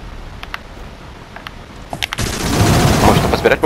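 Rapid automatic gunfire from the video game Mothergunship, sparse at first and then swelling into a loud, dense burst of repeated shots in the second half, with a faint game voice underneath.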